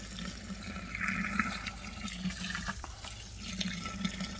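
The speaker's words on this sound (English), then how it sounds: "I'm going to add water and I'm going to bring it right up to the top of the wax" Water is poured into a pot over wax for rendering, a continuous rushing, gurgling fill close by with a low hum underneath and no talk.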